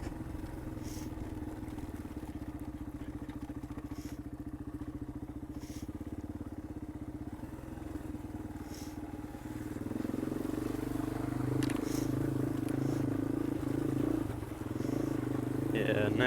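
Yamaha XT225 dual-sport motorcycle heard while riding, a steady close engine drone with wind rush that grows louder and rougher about two-thirds through, constant throughout.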